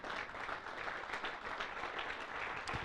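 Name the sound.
applause in church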